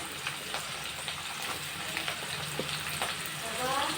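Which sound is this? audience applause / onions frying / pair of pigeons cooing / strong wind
onions frying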